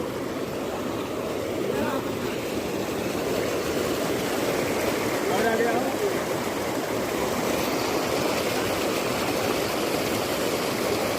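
Floodwater rushes steadily around a tractor stuck in a flood, a loud continuous broadband roar of flowing water with no pauses, outdoors and close by.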